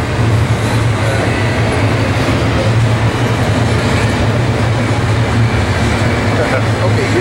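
A train rumbles past at Cajon Pass, loud and close, with steady clattering wheel noise and a constant low drone throughout; no clear talking stands out.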